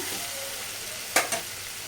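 Spices and coconut chili powder being stirred into cooked ridge gourd curry in a pan, with a steady low sizzle and two short scraping strokes of the spoon near the end.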